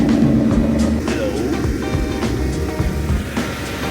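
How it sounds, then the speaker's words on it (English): A Porsche engine running on a cold day, a loud, steady low rumble close by that lasts through the clip, with a voice talking briefly over it. "first we gotta start it and see if it even starts. Wow, sounds cool in the cold like always"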